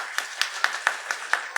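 Audience applause at a conference on yoga, heard as a quick, regular series of about seven sharp claps, roughly four per second, fairly close and clear.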